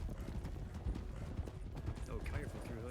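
Hooves of a horse in a video game clip-clop in a quick, uneven rhythm on a hillside, with a faint whinny, heard under a player talking.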